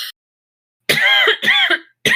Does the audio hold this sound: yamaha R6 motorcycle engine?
no